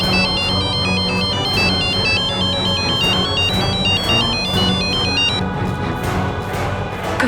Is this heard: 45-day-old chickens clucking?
no